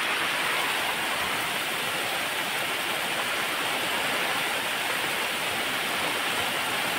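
Heavy rain pouring down over a cotton field, a dense, steady roar of broadband hiss that stays constant and loud throughout, with no voices.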